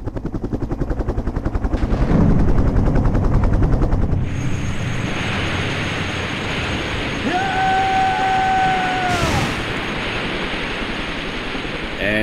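Helicopter going down under gunfire in the Resident Evil Survivor video game: a loud, steady rotor roar with rapid chopping pulses, then a sustained whine and a sharp burst of noise, with no talk over it.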